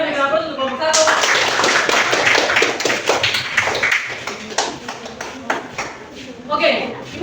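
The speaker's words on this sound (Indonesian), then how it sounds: "Semuanya beri aplaus untuk kelompok 1." A class claps for a student group after its presentation, with steady, dense applause from many hands that begins abruptly, stays loud, and gradually thins toward the end.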